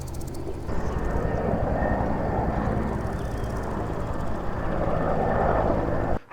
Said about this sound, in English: I've often seen these fire planes flying over the farm.